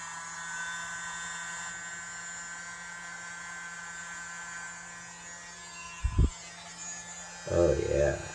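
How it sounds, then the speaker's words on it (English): A small electric blower played over a fresh acrylic pour painting gives a steady, close buzzing whir that runs throughout, with a couple of brief knocks near the end. "Take my little blower here."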